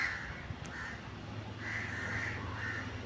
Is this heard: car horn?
no